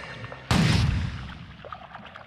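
A single loud gunshot blast from the survival horror game Michigan: Report From Hell, sudden and booming, then a long rumbling decay fading under faint background ambience.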